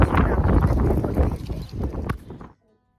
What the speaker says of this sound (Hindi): पता नहीं आपको पीछे से शोर आ रहा होगा मेरे, क्योंकि बहुत ज़्यादा हवा चल रही है।